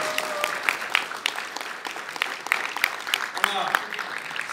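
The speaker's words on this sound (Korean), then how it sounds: "뜨거운 박수 한번 주십시오." An audience applauds after a lecture at a citizens' assembly event, a sustained patter of clapping hands with a voice speaking over it.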